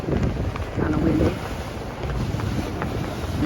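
Wind buffets the microphone aboard a ferry crossing the Mississippi River in South Louisiana, a continuous low roar with rushing water and engine rumble beneath, no voices.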